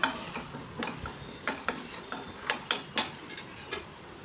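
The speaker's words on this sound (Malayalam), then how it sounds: "ചോപ്പ് ചെയ്ത സവാള ആഡ് ചെയ്ത് കൊടുത്തു ഇനി നമുക്കത് നന്നായിട്ടൊന്ന് വാട്ടിയെടുക്കാം" Chopped onions for chicken curry sizzle in a hot pan while a spoon stirs them, with repeated close scraping strokes over a steady frying hiss and no talking.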